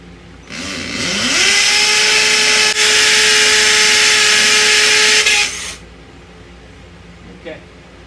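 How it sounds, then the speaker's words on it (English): A Ridgid battery-operated hammer drill spins up, runs at a loud steady whine for about five seconds close by, then stops abruptly. "It's a battery operated hammer drill."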